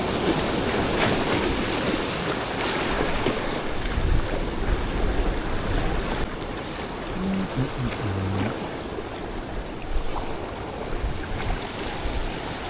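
Sea waves and wind on the coast at Baiona, Galicia: a steady, loud wash of surf and rushing wind noise across the whole stretch, with no voices.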